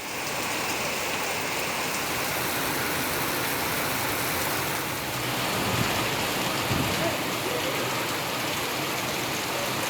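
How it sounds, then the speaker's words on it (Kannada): Steady drizzling rain falls in the Chikkamagaluru area, a continuous even hiss of drops on surfaces with faint passing traffic rumble underneath and no talking. "ಇಲ್ಲಿ ಜಿಟಿ ಜಿಟಿ ಮಳೆ, ಬರೀ ಒಂಥರ ಸಮಸ್ಯೆ ತರುವಂತಹ ಮಳೆ ಆಗ್ತಾ ಇದೆ"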